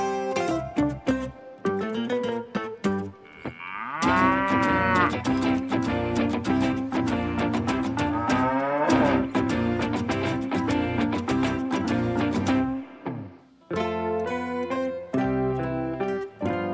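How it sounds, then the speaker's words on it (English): A cow lowing in several long, drawn-out moos, loud and close, with a light musical backing between calls. "Cow."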